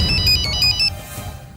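A phone ringtone plays a bright, repeating melodic pattern over a low background rumble, then cuts off partway through.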